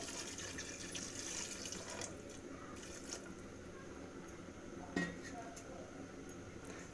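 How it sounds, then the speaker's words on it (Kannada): Water pours quietly into a pot of cauliflower to cook, with a soft steady splash and a few light metallic clinks. "ಸ್ವಲ್ಪ ನೀರು ಹಾಕೊಂಡು ಬೇಯಲಿಕ್ಕೆ ಮಡಗತ್ತೀನಿ"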